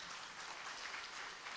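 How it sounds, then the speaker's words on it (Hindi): A crowd claps at a mushaira poetry gathering in Nander, honouring the organisers with a soft, even wash of applause that holds steady throughout the short stretch. "इस मुशायरे के मुंतजिमीन गालिब आशी साहब के लिए जोरदार तालियां बजा दीजिए"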